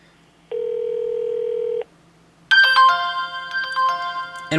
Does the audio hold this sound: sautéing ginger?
no